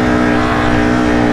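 Four-wheeler ATV engine on a trail at a rural property: a loud, steady motor drone with a strong, even pitch, sustained close to the microphone with no talking.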